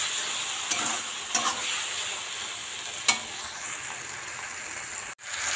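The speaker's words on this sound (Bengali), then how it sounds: "এই দেখো মশলাটা দিয়ে ভালো করে ভাজা করে নেব" Spice paste frying with vegetables for a lentil-dumpling curry, stirred with a few distinct scraping clatters of a spoon against the pan over a steady close sizzle, no talking.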